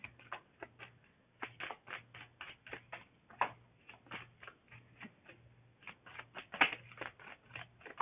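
Cards are shuffled again and again in soft, rapid riffling bursts, close and quiet, with short pauses between them and no voices.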